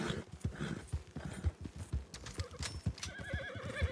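Horse hooves clip-clop at a fast, steady gallop in a Western ranch roleplay video game, with the animal snorting and whinnying; rhythmic thuds carry throughout, and a rising whistle-like tone enters near the end.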